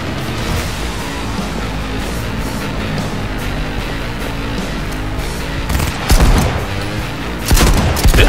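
A shotgun fires in the video game Cyberpunk 2077 amid a dense, continuous barrage of gunfire, with heavier, louder blasts bursting out toward the end.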